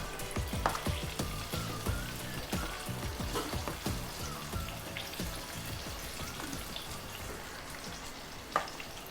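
Chicken cutlet frying in a pan of hot oil, a steady dense crackle and sizzle with scattered sharper pops, one louder spit near the end; no voices.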